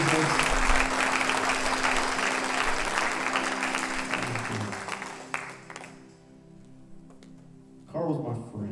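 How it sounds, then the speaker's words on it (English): A church congregation claps loudly and steadily at a homegoing service, dense applause filling the first six seconds before fading, after which a voice speaks over a sustained organ tone. "can we just clap our hands to Jesus right now?"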